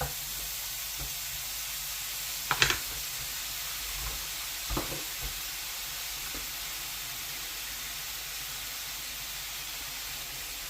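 Pork pieces browning in a hot pan for a pork and apple cider casserole give a steady, quiet sizzle, with a few sharp clinks and pops near the start.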